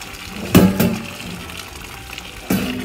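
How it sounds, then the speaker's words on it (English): Boiling hot water from a kettle poured into a kitchen sink, a short burst of splashing and gurgling with a couple of louder surges, close by and without speech. "pouring in a kettle of water, boiling hot water"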